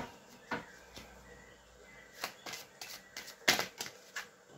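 Tarot cards drawn from a deck, a series of soft, close-up papery flicks and taps in uneven bursts, a few of them sharper, with no talking.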